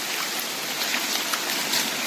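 Heavy rain pours down in a dense, even hiss that stays constant throughout, close and loud, with no voices.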